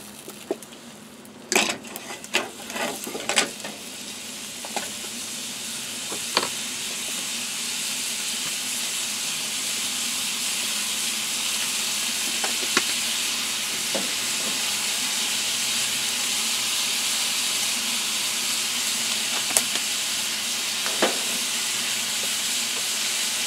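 Butter sizzling in a hot pan, a steady loud hiss that runs the whole time, broken by a few sharp pops and clicks near the start.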